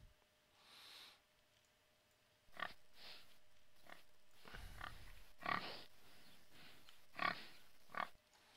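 Pigs oinking in the Second Life game world, with a handful of separate grunts and snorts spaced irregularly over a quiet background, moderately close.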